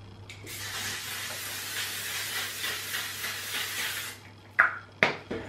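Makeup setting spray is misted onto a face in one long, close, hissing aerosol burst, followed by two short sharp spritzes.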